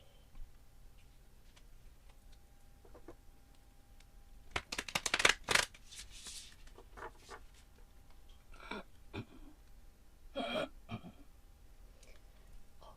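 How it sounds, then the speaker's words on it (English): Tarot cards are shuffled softly by hand in a quiet room, with a few bursts of riffling and shuffling spread through an otherwise hushed stretch. "Always important to shuffle your cards quite well when you are doing a reading."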